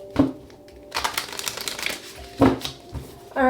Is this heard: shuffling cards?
yes